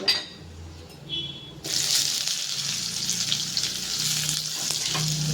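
Dried chili, bay leaf, garam masala and chopped onion hitting hot oil in a pan, a quiet start with a few light clinks, then a sudden burst into a steady, close crackling sizzle.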